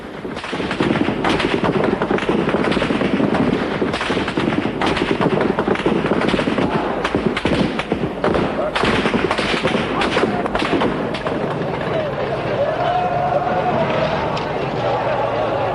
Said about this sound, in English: troops stormed the square in force and opened fire